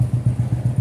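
A motorcycle engine chugs nearby in a short, even run of thumping pulses, loud and alone.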